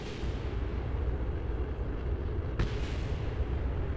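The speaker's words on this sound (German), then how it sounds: "Was explodiert denn?" Spacecraft breaking apart and exploding during deorbiting in the video game Kerbal Space Program, a dense, steady low rumble with one sharp crack partway through.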